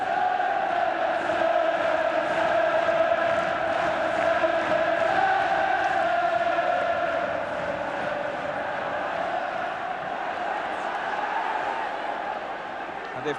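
A football crowd roars throughout Everton's home match against Bayern Munich, a dense, sustained wall of voices with rising chants and bellows. It stays loud and steady, with faint commentary beneath it.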